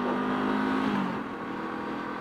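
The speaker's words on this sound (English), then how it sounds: "I don't know whether you'd be able to hear that exhaust pipe as much as I can while I'm riding" Exhaust of a 2023 Honda CL500 motorcycle revving while ridden, a steady buzzing drone that holds then eases off slightly, heard alone without talk.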